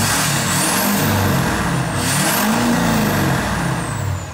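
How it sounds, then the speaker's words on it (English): A 1996 AM General Hummer H1 truck rumbles loudly and close with a steady low engine drone, its note rising and falling across a couple of revs. "A 1996 AM General Hummer H1."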